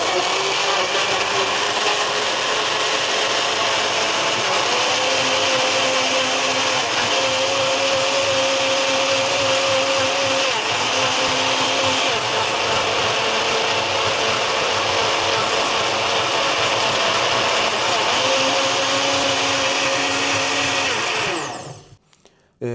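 A Philips 5000 Series 1200W blender whirs loudly and continuously as it purees fruit with milk. Its motor pitch shifts a few times as the load changes, then it cuts off abruptly near the end.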